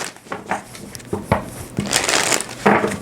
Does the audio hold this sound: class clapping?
no